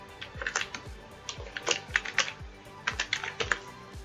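Python code is tapped out on a computer keyboard in quick, uneven bursts of crisp, close keystrokes, with short pauses between clusters and no voices.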